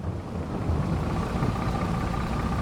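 Truck engine idling and pulling away in Farming Simulator 22, a steady low broadband rumble with a faint hum, continuous and close, without voices.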